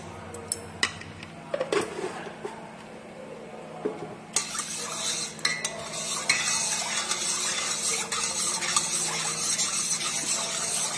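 Rice batter with peanuts and salt stirred in a pot, scattered clinks and scrapes at first, then steady, busier stirring with metal knocking against the pot.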